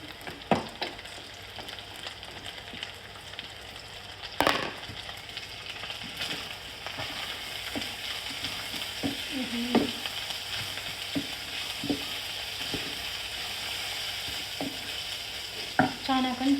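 Onion, capsicum and cabbage frying for thukpa, a faint sizzle beneath a long run of scattered spatula taps and scrapes against the pan, some sharp and clacking, others soft.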